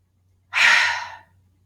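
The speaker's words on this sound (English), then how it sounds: "It's an exhale out through the mouth." A single breathy exhale blown out through the mouth during a seated chair yoga breathing exercise, close and clear, rising quickly and fading over about three quarters of a second against near silence.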